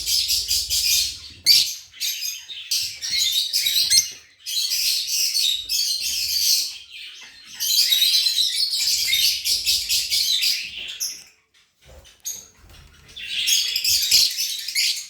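Pet lovebirds and their chicks chirp and twitter in rapid bursts close up, bright high calls coming in clusters separated by short quiet gaps.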